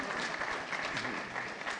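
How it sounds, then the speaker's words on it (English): An audience at a book launch applauds, dense steady clapping from a crowd filling the whole moment. "Please, a round of applause."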